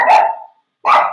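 A dog barks twice, loud and close, with a short silent gap between the two barks, in a costume and mask shop.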